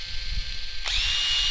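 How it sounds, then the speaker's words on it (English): A power drill rigged for fishing whirs steadily, then revs up sharply partway through into a higher, louder sustained whine, close and alone with no talk. "We're going to be fishing with a drill"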